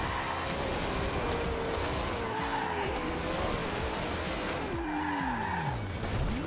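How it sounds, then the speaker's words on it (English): A McLaren in a racing video game spins out, engine tones sweeping and tires skidding and squealing in steady, continuous loud bursts without pause. "Oh, I totally just spun out"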